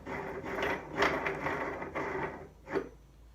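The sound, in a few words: Turncrafter Commander KWL-1018VS lathe starting and spinning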